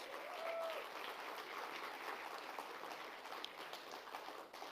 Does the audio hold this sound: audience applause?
yes